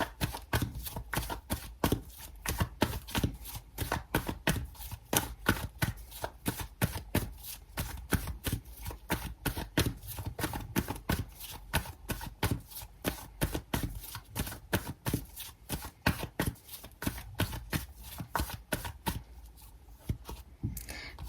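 A tarot card deck is shuffled over and over in a steady, rapid riffle of crisp card slaps, close and moderately loud, with no voices.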